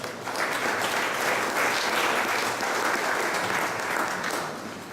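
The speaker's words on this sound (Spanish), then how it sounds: "Un aplauso, por favor" Audience applause at a welcome session of a conference on petroleum, economy and the state, a steady, moderately distant roar of clapping that holds evenly and then tapers slightly at the end.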